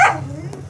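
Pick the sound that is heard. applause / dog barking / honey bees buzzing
dog barking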